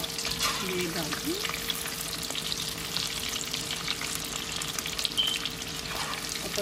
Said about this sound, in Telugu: ఒకసారి కలుపుకోవాలి అన్నమాట, ఇట్లా వేగాలి.